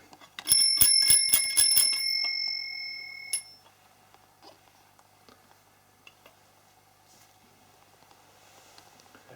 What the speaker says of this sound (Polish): Tu też z dzwonkiem.